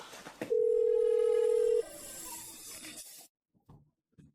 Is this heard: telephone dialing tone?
yes